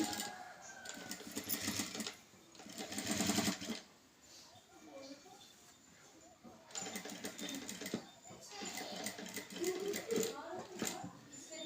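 A sewing machine stitches a canvas-lined blouse design in bursts, with loud runs near the start and again later and quieter gaps between them. Someone talks over parts of the stitching.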